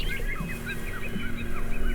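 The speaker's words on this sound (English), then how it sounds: "Do you hear the birds?" Birds call over and over in a park setting: quick chirps and warbles in a rapid repeating pattern, moderately loud over a steady background hum, with no speech.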